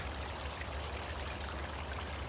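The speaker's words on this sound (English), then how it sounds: "But there's the creek here." Water runs steadily through a deep creek near Drewry's Bluff, Virginia, a constant broadband rush with no voices, heard fairly close and even in level throughout.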